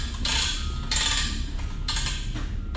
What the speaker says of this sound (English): Air impact.